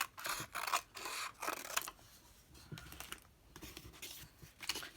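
Scissors snip through paper in quick, close, crisp cuts, several bursts of rasping clicks with short pauses between them.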